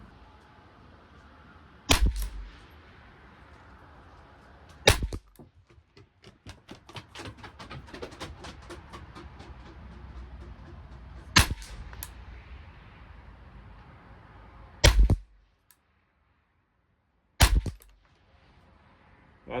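Ruger 10/22 Target Lite semi-auto .22 rifle firing on a 50-yard benchrest range: five sharp, loud shots spaced a few seconds apart, each a crisp crack with brief ring, with quiet handling noise between.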